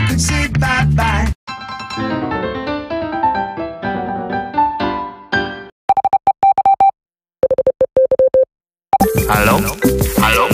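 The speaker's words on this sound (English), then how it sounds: "The phone is ringing and you don't know why." A phone ringtone of the iPhone type plays loud and alone, a melodic chiming pattern followed by repeated short electronic tone bursts, then a busier musical burst at the end.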